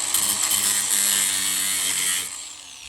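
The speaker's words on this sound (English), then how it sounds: "I'm gonna come right along the edge here of my wood with my grinding wheel" An angle grinder with a grinding wheel cuts rebar along the edge of a wooden block, giving a loud, steady, harsh whine that holds for about two seconds and then winds down.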